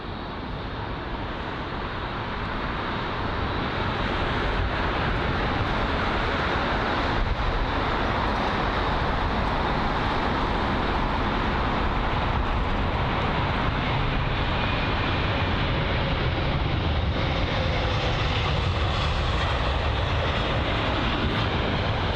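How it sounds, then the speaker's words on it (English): A Malaysian Airlines Airbus A350-900 from Kuala Lumpur arrives at London Heathrow, heard as a continuous broadband jet roar, steady and moderately loud throughout with no clear rise or fall and no voices. "got an arrival here. You could tell how busy Heathrow is early in the morning there. What's that? The Malaysian Airlines A350-900 from Kuala Lumpur."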